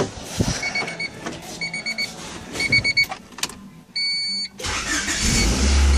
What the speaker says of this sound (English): That's how a Cb7 normally would start.